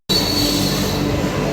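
Steady broadband rumble and hiss of a train waiting at a station platform during boarding, a Vande Bharat service, with continuous rail noise and no voices.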